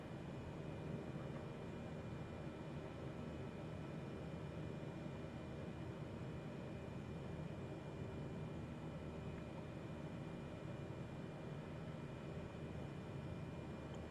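Airliner engines in Flight Simulator during a takeoff on a group flight tour, a steady, faint broadband roar and rumble holding at an even level throughout, with no voices.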